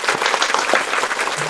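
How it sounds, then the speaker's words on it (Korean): Clapping from an audience at a Korean real estate agent exam talk, a brief, loud, close burst of many hands patting together unevenly throughout. "박수 한번 칩시다"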